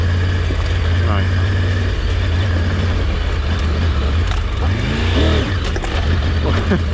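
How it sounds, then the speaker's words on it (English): Off-road motorcycle on a coast-to-coast trail ride, its engine droning and revving steadily under heavy low rumble and wind, with a brief clutch-and-rev swell late on and a rider talking over it. "You heard the clutch, you heard the engine."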